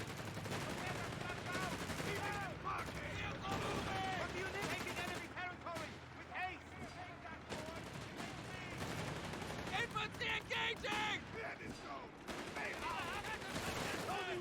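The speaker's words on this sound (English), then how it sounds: "that's way too much small arms fire" Small arms gunfire in the World War II strategy game Company of Heroes 3, with Deutsches Afrikakorps forces in a 1v1 match; dense bursts of rifle and machine-gun fire, crackling steadily with game voices under and around it.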